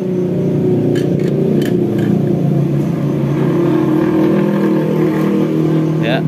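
A motorcycle with a battery-charging fault (regulator-rectifier not warming) idles steadily after its battery is reconnected, a continuous close engine rumble with no clear revving.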